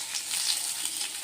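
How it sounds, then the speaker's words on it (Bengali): Pointed gourd (potol) pieces sizzle steadily in a pan as a spatula stirs them, a close, continuous bright frying hiss with soft scraping, ending in a louder stir at the end. "পটলগুলোকে খুব সুন্দরভাবে খুন্তি দিয়ে নাড়িয়ে ছেড়িয়ে ভাজা করা হচ্ছে"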